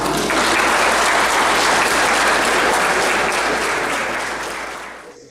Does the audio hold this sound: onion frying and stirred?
no